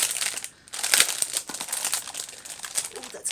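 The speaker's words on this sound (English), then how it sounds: "Hopefully in editing I'll be able to take away some of that crinkling for you so that you don't go deaf" Plastic packaging of a Best Mate toner foiling system pack crinkles loudly and close as it is opened, in rapid bursts of sharp rustling with a short pause near the start.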